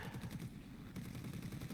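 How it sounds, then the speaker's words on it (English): Rapid bursts of aircraft cannon fire in a World War II air combat video game, a fast rattling stream of shots that is steady and fairly close, with no talking. "Fire off the last of my cannon ammunition and cut off the C202's wing"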